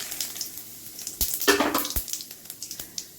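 Cumin seeds and bay leaf sizzling in hot oil for chana dal with jackfruit, a crackling fry with clicks and a louder burst of spluttering midway, close and alone.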